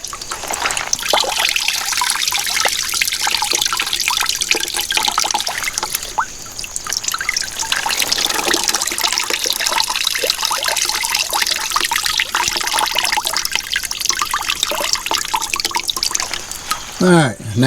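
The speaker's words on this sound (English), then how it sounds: "You just want to squeeze out your excess water." Steady trickling and dribbling of water running off squeezed comfrey leaves, continuous and close, with a brief break partway through.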